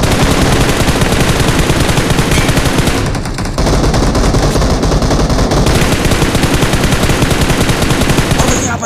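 Dense, rapid automatic gunfire in Battlegrounds Mobile India, loud and continuous, with a brief drop around three seconds before the bursts resume.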